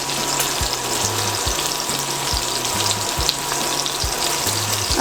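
Garlic and onion fry in a pan with a dense, steady sizzle and crackle that continues alone throughout, without talk.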